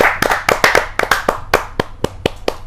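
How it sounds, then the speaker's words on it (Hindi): A small audience at a Hindi kavi sammelan claps in loose, separate strokes, a few sharp close claps with gaps between them rather than a dense ovation. "जोरदार ताली के साथ एक बार"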